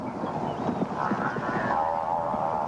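A buffalo herd bolts from a lion pride, its many hooves making a dense, continuous drumming rumble, steady and close throughout.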